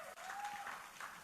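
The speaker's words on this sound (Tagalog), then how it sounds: "Palakpak para kay Lord." A church congregation applauding during a sermon, a short burst of clapping at moderate distance beneath a faint held tone, brief and fairly soft.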